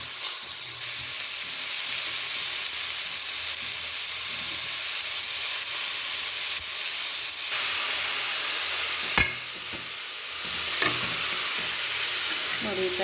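Fennel, cumin and mustard seeds with chilli powder are stirred through hot frying oil for a beetroot palya, giving a steady close sizzle with brief sharper crackles and spoon scrapes near the end.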